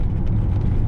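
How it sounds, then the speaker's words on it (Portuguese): A classic Alfa Romeo 164 with its V6 engine runs steadily nearby, giving a dense, continuous low rumble with no talking over it. "esse som do V6 aí ao fundo, uma bela sinfonia italiana"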